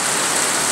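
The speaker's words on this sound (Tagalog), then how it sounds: "ang lakas ng ulan" Heavy rain pours down on a farm in the countryside, a dense, loud, continuous hiss with no pauses.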